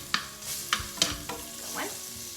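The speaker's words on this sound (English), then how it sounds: "Fry that up. Get them a little soft. All the beef juices on them." Carrots and potatoes fry in beef juices in a pan and are stirred, giving a few close, sharp scrapes and clinks over a soft, low sizzle. No one talks.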